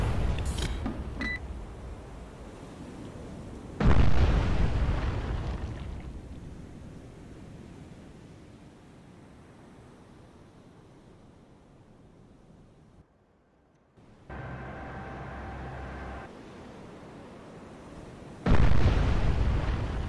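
Roaring missile launches in the submarine game Cold Waters, three loud bursts of broadband rushing noise that each fade into a long hiss, separated by quieter stretches and a brief near-silence.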